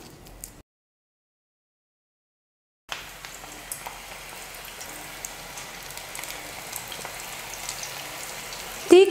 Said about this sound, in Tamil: இப்போ கலந்து வச்சுருக்கிற கலவையை வந்து கொஞ்சம் கொஞ்சமாக எடுத்து எண்ணெயில் போட்டுக்கலாம்